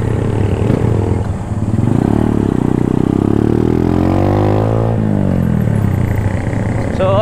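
An off-road motorcycle labours up a hill on a coastal ride near a lighthouse, the engine loud and close, revving and climbing in pitch through repeated gear changes, with clattering over rough ground.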